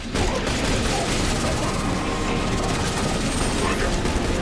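Dense, continuous gunfire in a firefight in The Bureau: XCOM Declassified, played on PS3, with rapid overlapping shots filling the whole stretch at loud, close range.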